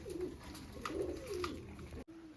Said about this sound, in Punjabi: ਐਨੇ ਜੇ ਖੁਸ਼ ਹੋ ਗਏ ਕਬੂਤਰ